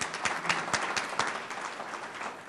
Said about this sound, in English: Hopefully that applause was for Jim and not for me.